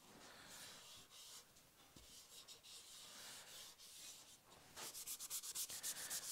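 Hand sanding of a stained and lacquered guitar body with a fine pad under light pressure, a steady close scratchy rubbing that turns into quicker rhythmic back-and-forth strokes near the end.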